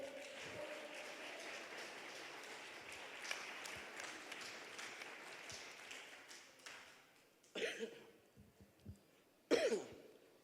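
Church congregation at a Portuguese-language worship service applauds in a soft, distant patter that tapers off, followed by a couple of sharp coughs and throat clearing.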